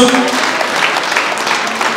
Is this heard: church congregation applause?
yes